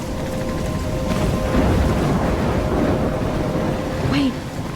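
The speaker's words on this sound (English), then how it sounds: "I'm trapped in a storm?" Stormy weather in the Life is Strange video game, with steady rain and rumbling thunder forming a dense, loud wash that swells slightly midway, with a brief rising tone near the end.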